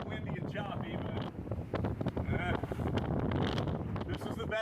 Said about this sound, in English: It's pretty windy and choppy